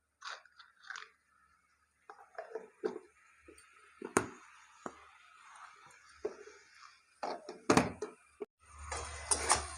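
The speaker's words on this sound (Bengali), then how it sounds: "এবার মশলাটা ভালো করে কষাবো।" Spice paste for rohu fish kalia being stir-fried in a pan at home, with close, intermittent scrapes and clatters of a spatula against the pan, then a denser frying sizzle near the end.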